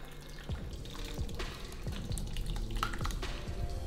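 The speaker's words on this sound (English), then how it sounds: "I like to take the juice, so the water and all the salsa, and just dump it over top." Salsa juice and water poured from a container over chicken for homemade Chipotle-style meat, giving close, wet splashing and dripping with a few soft clinks against the dish, heard alone.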